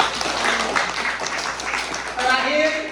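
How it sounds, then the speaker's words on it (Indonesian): Audience applause at a school literacy workshop, a short steady patter of many hands clapping together with some voices murmuring underneath. "Tepuk tangan."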